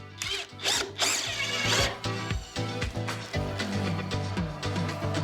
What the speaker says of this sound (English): Time to attach the centerpiece with some sturdy screws.